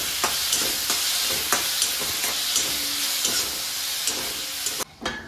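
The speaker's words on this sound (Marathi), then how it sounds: "आता आपण यात टमाटा भाजायला टाकू। आता नरम होईपर्यंत भाजायचं आहे।" Tomatoes frying with softened onions and chillies for Punjabi-style kofta curry, a steady close sizzle broken by regular scraping stirs of a spoon in the pan, cutting off briefly near the end.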